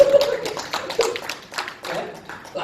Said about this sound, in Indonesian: Tepuk tangan dong biar nggak ngantuk.